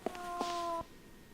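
A cat meows inside the video game Fragile Dreams: Farewell Ruins of the Moon, two short, close, tonal cries in quick succession followed by a held meow that cuts off cleanly, with no talking over it.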